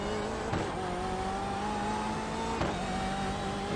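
A BMW M8 race car engine at Summit Point in iRacing drones steadily at high revs, with a continuous tonal whine that climbs slowly, and two brief shift-like blips interrupt it.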